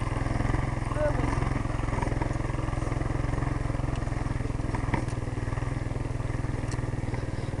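A small mini bike engine on a test ride runs steadily, a continuous buzzing drone with a constant pulsing rhythm that stays loud and close throughout, with no break in the sound.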